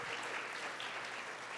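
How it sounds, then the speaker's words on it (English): An audience at a national cohousing conference panel applauds, a steady, even wash of many hands clapping throughout, moderately distant and fairly quiet. "Another round of applause for Eric and Mathilde."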